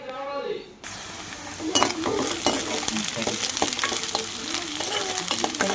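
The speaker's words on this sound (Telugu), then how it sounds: "ఉల్లిపాయలు అయితే బాగా ఫ్రై అయిపోయాయి." Onions frying in a pan at home for a Telugu home-cooked meal, with a steady close sizzle and intermittent clinks and scrapes of stirring throughout, following a brief moment of speech at the start.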